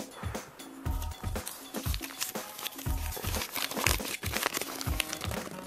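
Paper crinkling and creasing as a dollar bill is folded by hand into a ring, with close, irregular rustles and crunches continuing steadily throughout.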